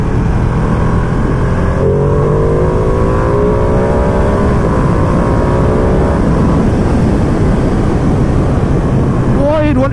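A 2020 Ducati Panigale V2 motorcycle engine revs up to about 6,000 rpm, a rising, steady engine note that climbs and holds before easing off, heard close and loud beneath continuous wind and road noise.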